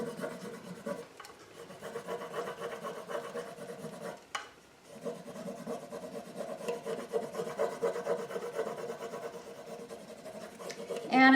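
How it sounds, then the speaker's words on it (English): Steady rubbing and rasping as a transfer is pressed onto a metal paint can for a shabby chic storage container, continuous and close with a brief pause midway. "And I'm just making sure that I get the whole thing rubbed out as best I can."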